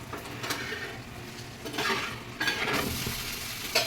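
Scraping, clinking stirring in a pan over a soft sizzle, with a few louder bursts of utensil scraping toward the end.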